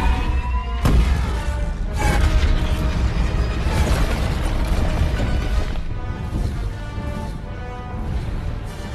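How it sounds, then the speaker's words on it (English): A Star Destroyer blast destroys a planet in a Star Wars scene, heard as a sustained, loud rumbling explosion with a sharp onset and rolling, grinding roar that fades slowly. "A blast from a Star Destroyer."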